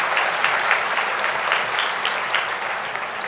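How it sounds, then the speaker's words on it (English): Steady applause from a graduation ceremony audience, a dense, even wash of many hands clapping that holds for several seconds with no voices breaking through. "It's okay to clap."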